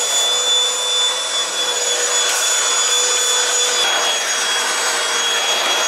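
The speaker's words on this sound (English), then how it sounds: "I'm going to put the Hoover round here now." A small battery-operated Hoover running over carpet in an understairs cupboard, giving a steady, close, high-pitched motor whine with the rough hiss of suction on the pile, with no one talking.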